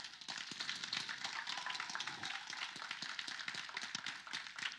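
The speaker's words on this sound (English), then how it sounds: "let's give the Lord a hand clap of praise" A church congregation claps hands in praise during a worship service, a dense, steady wash of many overlapping claps sustained throughout at moderate loudness.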